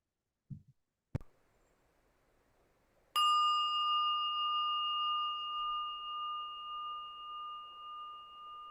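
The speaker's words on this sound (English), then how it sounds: "by this beautiful ringing bell" A meditation bell is struck once after a couple of soft taps, ringing out with a clear sustained tone that fades slowly over several seconds in a quiet room.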